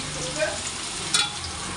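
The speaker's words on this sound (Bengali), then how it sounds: "এখানে দেখো আলুটা এখন ভাজা হচ্ছে" Potatoes sizzle and crackle as they fry in a pan, a steady close hiss with a brief sharper burst of spatter near the end, no voices.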